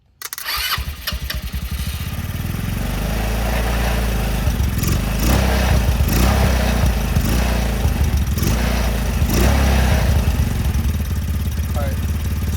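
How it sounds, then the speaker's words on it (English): A quad bike engine sputters to life and settles into a loud, rumbling idle up close, with a voice talking briefly over it. "Got it to run, y'all. Oh, it's idling."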